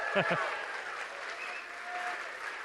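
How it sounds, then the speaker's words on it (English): A lecture audience applauds a guest speaker named Emery Smith, steady moderate clapping spread through the room, with a brief voice at the very start. "Can you give him a big round of applause?"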